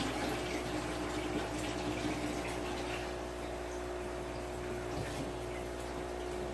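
Water runs steadily into a quarantine hospital tank for new or sick fish, a continuous soft rush over a low, constant pump-like hum, with no pauses throughout.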